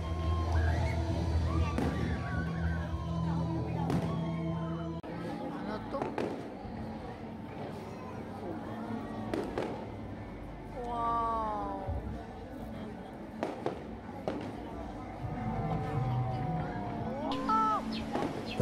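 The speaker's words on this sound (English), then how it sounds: "And fireworks are always fun." Fireworks burst during a nighttime Dinagyang festival in Iloilo, Philippines, with scattered sharp pops and booms rising over steady crowd hubbub and distant music.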